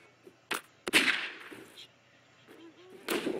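Gunfire in a Garry's Mod Prop Hunt match: a few sharp, loud shots spaced irregularly, one heavier blast followed by a brief fading tail, with quiet gaps between.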